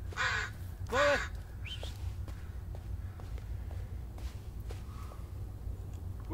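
Two loud, close crow caws ring out in quick succession in the video game Blair Witch, followed by soft footsteps and faint rustling over a low, steady ambient hum.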